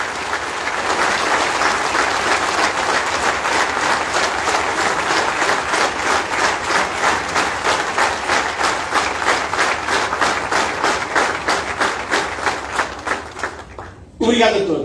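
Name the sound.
applause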